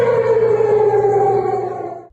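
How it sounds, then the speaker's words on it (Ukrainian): An air raid siren broadcast over Russian television and radio wails steadily and loudly in a sustained tone, then fades slightly toward the end, with no voices. "Звуки повітряної тривоги росіяни почули в ефірах телеканалів та радіостанцій"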